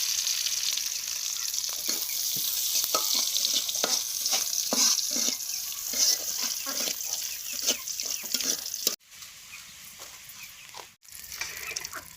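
Dal being fried in oil, with a bright continuous sizzle and frequent scraping stirs up close. The sound cuts out briefly twice near the end, and there is no talking.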